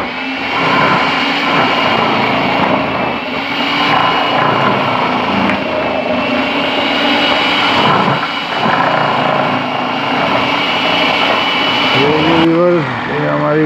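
A commercial grating machine shreds a large batch of carrots for gajar halwa, a loud, steady mechanical whir that runs continuously with slight fluctuations.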